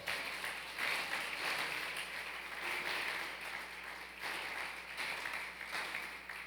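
A church congregation claps together, a fairly faint, even wash of many hands with a soft low hum beneath, swelling in gentle waves without voices on top.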